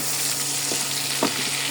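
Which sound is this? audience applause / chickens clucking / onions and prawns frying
onions and prawns frying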